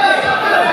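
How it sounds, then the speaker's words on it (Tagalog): A dense crowd fills a packed gym during the deciding game 3 between Team Toledo and Team Guadalupe, making a loud, continuous mass of overlapping voices and cheering. "Grabe atong crowd diri ha"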